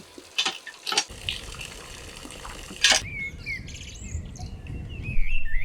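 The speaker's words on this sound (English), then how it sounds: "the soft chirping of birds" Small birds chirp and tweet in a quiet Bangladeshi countryside, with high calls scattered through the second half. Earlier, water runs and splashes nearby, as at a tube well.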